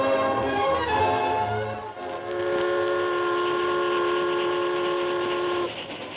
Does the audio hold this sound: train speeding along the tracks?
yes